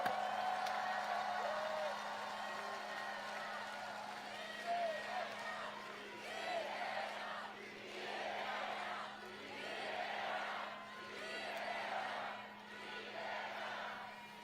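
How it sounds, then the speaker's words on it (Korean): Large rally crowd cheering and whooping in repeated swelling waves, with applause mixed in, loud and sustained across a broad outdoor space, over a steady low electrical hum. "격려의 박수, 축하의 박수 부탁드립니다."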